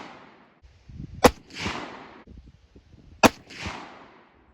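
Two single rifle shots from a Woodman Arms Patriot G3 loaded with 36 grains of Vihtavuori N110 powder ring out two seconds apart, each a sharp loud crack followed by a rushing echo, at an outdoor range.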